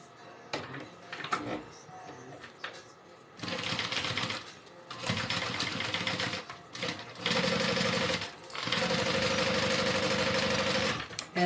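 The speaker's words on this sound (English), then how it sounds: "I'm going to go ahead and stitch just along right here to secure everything together." A sewing machine stitches through a Denver backpack in several bursts of rapid, steady mechanical clatter, close and loud, separated by brief pauses and handling noises.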